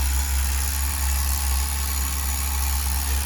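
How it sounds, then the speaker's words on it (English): A Tamiya TGS-R nitro RC engine idles steadily during its tank-two run-in on the factory carburettor setting, a close, constant buzzing drone with a strong low throb and no talk. "Sounds like the idle's rising up, so that to me sounds like it's starting to break in a little bit."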